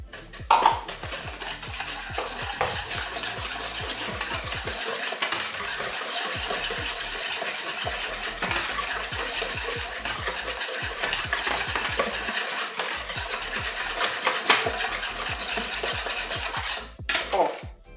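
Chocolate cake batter of milk, sugar, flour and cocoa whisked by hand, a rapid continuous scraping and rhythmic ticking of the whisk against the bowl, close and steady for many seconds before stopping.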